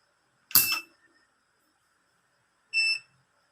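Warning tone from a DIY water vending machine: two separate short electronic beeps about two seconds apart, the first a harsh buzzy burst, the second a cleaner tonal bleep, alone in silence.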